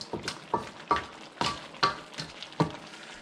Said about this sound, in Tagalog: So, ilagay na natin itong ating mga tahong. Tsaka yung ating hipon.